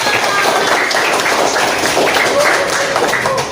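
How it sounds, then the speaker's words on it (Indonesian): Classroom clapping from children in an Islamic religious education lesson, a brisk burst of hand claps with chatter mixed in, fairly loud and close. "tepuk tangan buat kita."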